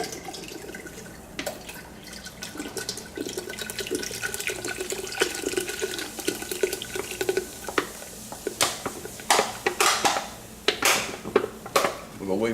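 Bud Light beer poured into a pot of boiling water for a seafood boil, a splashing, trickling liquid stream with scattered drips and bubbling, fairly close, with faint background voices.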